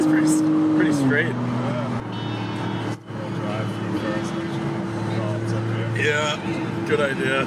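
A car's engine revs and whines in rising and falling tones as its tires spin during a vinyl wrap torture test, with people talking and exclaiming over the engine throughout.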